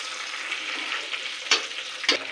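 Onions and bay leaves for beef curry sizzle steadily in a hot pan, with two distinct scraping stirs of a spoon near the end.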